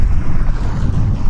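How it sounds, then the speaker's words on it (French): Strong wind roars and buffets against the microphone in a continuous low rumble by a river, loud and gusty, with no one speaking. "la rivière, le vent est en furie."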